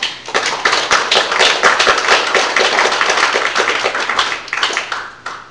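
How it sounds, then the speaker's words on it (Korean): Audience at a book launch event applauding a business federation chairman, a dense, steady burst of many hands clapping close by, lasting throughout and easing slightly toward the end. "큰 박수 부탁드리겠습니다."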